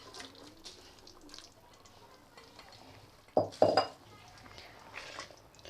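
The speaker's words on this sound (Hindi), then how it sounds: "इस पॉइंट पर मैं ऐड कर दूंगी मेरा फ्राई किया हुआ चिकन" Fried chicken pieces go into a cooking pot of masala gravy for Kashmiri chicken. A couple of sharp clanks and scrapes of metal on the pot stand out against a quiet kitchen background with light stirring and dripping noise.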